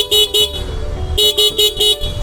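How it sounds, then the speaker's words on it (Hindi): Horn of a Bajaj Freedom 125 CNG motorcycle gives two quick close honks, a short pause, then a further run of three or four short beeps, loud and alone over a faint background hum. "तो हॉर्न बजा के आपको सुना देता हूँ।"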